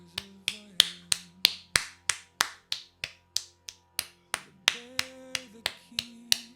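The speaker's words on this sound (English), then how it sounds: "Maybe if I keep clapping," Sharp, evenly spaced claps ring out one after another, about three per second, under background music with a sustained tone.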